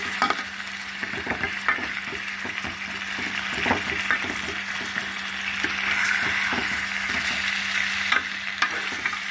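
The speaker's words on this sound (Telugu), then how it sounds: "ఏమవ్వదు, ఆయిల్లో ఫ్రై అవుతున్నాయి కదా." Pieces of food frying in hot oil in a pan while being turned over, a steady close sizzle with frequent stirring clinks and scrapes throughout, no voices.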